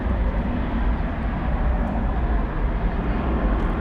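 An American Airlines airliner, flight 711, at Dallas/Fort Worth airport after dark, a steady heavy low jet roar holding at a constant level throughout with no pause or change.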